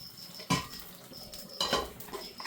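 A spoon scrapes and knocks against a pan as a thoran of vegetables is stirred, two or three short metallic strokes over a faint background.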